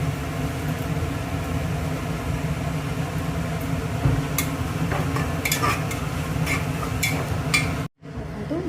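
Mutton curry masala with onion, Kashmiri chilli and turmeric being stirred in a hot pan, a continuous close sizzle with scattered spoon scrapes and clinks, cutting off abruptly near the end.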